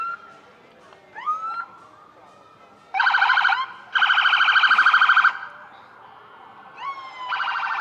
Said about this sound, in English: they do love the sirens though, don't they?